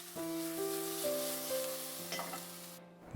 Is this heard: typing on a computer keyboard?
no